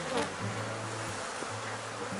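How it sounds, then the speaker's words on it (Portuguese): A full honeybee swarm, calm and not very aggressive, gives a steady, dense buzzing drone that holds unbroken from start to finish, with no voices over it. "Olha só, gente, que enxame maravilhoso, não é mesmo?"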